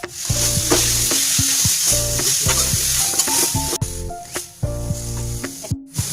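Grated papaya hitting hot oil in a pan for Bengali pepe ghonto gives a loud, close, continuous sizzle, broken by repeated scraping strokes of a spatula stirring through it, with no talk.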